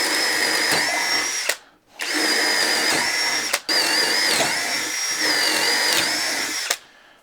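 Flex compact drill boring with a 1/2-inch twist bit: a high whining motor hum in three sustained runs, each cut off by a short stop and a sharp click, close and loud with no speech.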